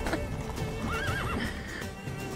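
Roach, the horse from The Witcher 3, lets out a loud, close whinny with a wavering pitch over steady clip-clopping hooves, all in a short burst.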